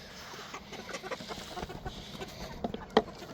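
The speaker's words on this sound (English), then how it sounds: "Hold on, little chickens." Hungry chickens at a barn feeding, soft scattered clucks nearby, faint under background noise, with one sharper squawk near the end.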